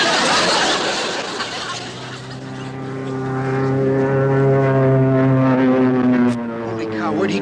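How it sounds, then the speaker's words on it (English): A propeller airplane flies overhead with a loud, droning engine roar that swells and shifts in pitch as it passes, with people talking over it. "Hey, enemy plane! Take cover!"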